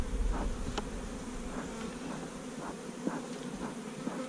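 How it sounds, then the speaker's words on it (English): Honeybees buzz around a hive that recently swarmed, a dense continuous drone of many wings close by, with individual bees passing near the microphone now and then. "So this is the one that swarmed? This is the one that swarmed. Okay. And so you can see the bees still."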